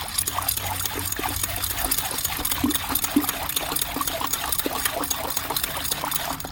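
A paint brush rinsed in a bucket of clean water makes a steady wet sloshing and rapid rhythmic slapping, close and continuous, with no talking.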